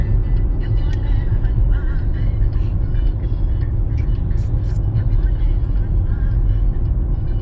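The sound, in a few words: car passing on road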